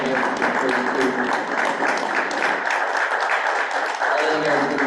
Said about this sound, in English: if people will clap with us again for them